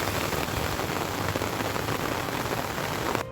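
A heavy monsoon downpour in India hisses steadily and loudly, a dense, unbroken roar of rain with no voices.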